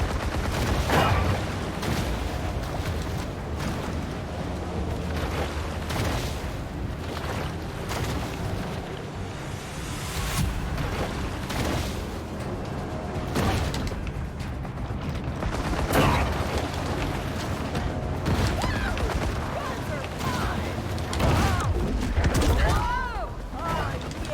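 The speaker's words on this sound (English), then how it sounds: "A shotgun." Dense game-combat audio from Maneater, with repeated sharp shotgun blasts amid splashing, mechanical noise and underwater action, loud and busy throughout, with a voice talking over parts of it.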